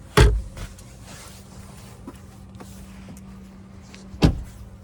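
The hood release latch is pulled twice inside a 2025 Ford Escape plug-in hybrid. Two sharp, close mechanical clunks come about four seconds apart, with faint rustling and a low hum between them.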